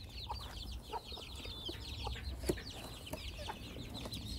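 Native Korean chickens and Araucana hens cluck softly and steadily at a morning feeding among rabbits, with faint bird chirps above a constant low rumble.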